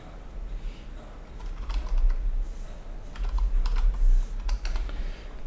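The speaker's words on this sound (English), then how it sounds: "I'm typing as I'm going" Keys clatter in quick irregular runs on a computer keyboard, fairly close, over a steady low hum, with no talking.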